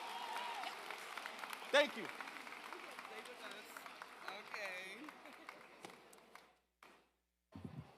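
Graduation crowd clapping at a high school class of 2024 ceremony, scattered applause and crowd noise under nearby talk, with a sharp tap partway through and a drop to near silence at the end.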